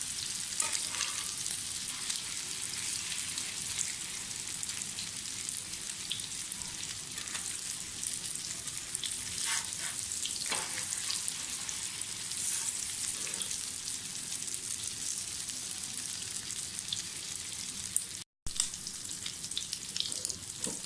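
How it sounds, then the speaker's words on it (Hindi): Mutton shami kababs frying in hot oil in a pan, a continuous bright crackling sizzle with small pops, steady and close for the whole stretch, with no talking. "कबाब हमारे काफ़ी ज़्यादा तले गए हैं"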